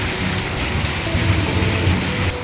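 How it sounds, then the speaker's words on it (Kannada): Heavy stormy rain in Mysuru pours down in a dense, loud, unbroken roar with no voices. "ಮಳೆಯ ಪ್ರಮಾಣ ಇನ್ನೂ ನಿಂತ್ಕೊಂಡಿಲ್ಲ ಇನ್ನೂ ಜಾಸ್ತಿನೇ ಬರ್ತಾ ಇದೆ"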